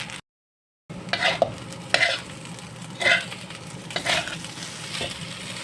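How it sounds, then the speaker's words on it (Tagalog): Eggplant and egg fry in a hot pan with a soft continuous sizzle, broken by several scraping and stirring bursts, close by, after a moment of silence at the start. "Magpiprito pa ako ng talong at saka itlog"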